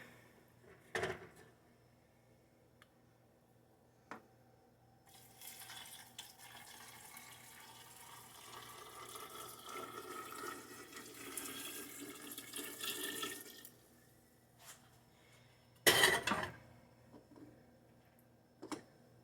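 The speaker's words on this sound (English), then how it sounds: "I'm going to attempt to pick up this hot pot and pour in our brine." Hot brine pours steadily from a pot into a jar for several seconds, framed by a few sharp knocks and clinks of glass and metal in a quiet room.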